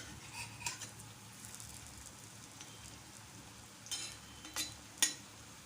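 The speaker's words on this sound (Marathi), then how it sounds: "शालो फ्राय करून घेऊया" Idli pieces shallow frying in a little oil in a pan over a low flame, a faint steady sizzle with a few brief louder crackles and pops near the end, no talking.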